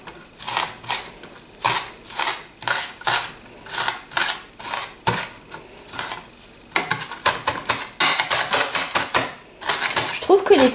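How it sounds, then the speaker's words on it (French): A knife chops spring onions on a cutting board for a Chinese chicken and shrimp soup: quick, evenly spaced close-up chops that keep a steady rhythm throughout, speeding into denser bursts toward the end. "on les coupe grossièrement dans un premier temps et après je les affine avec mon couteau"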